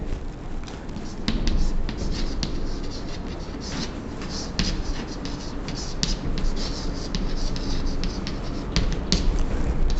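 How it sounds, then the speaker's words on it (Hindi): Pen or marker writing by hand during a chemistry lecture, with steady scratchy strokes and taps up close across the whole stretch and no clear voice over it. "थोड़ा सा नीचे लिखते हैं"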